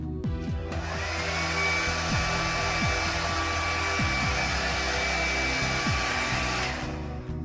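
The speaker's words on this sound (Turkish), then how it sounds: "İlk başta kurutma işlemine başlıyoruz." A hair dryer blows steadily and loudly throughout while styling coarse, frizzy hair in a salon, a continuous whooshing motor hum with a high whine, starting and stopping at the edges, with no talk over it.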